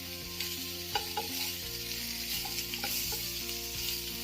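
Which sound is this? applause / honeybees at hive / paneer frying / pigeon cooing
paneer frying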